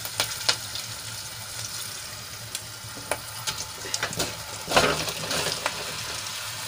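Bottle-gourd muthiya go into a hot oil tempering with a pinch of asafoetida, setting off a continuous sizzle broken by clinks and scrapes, with a louder burst near the five-second mark.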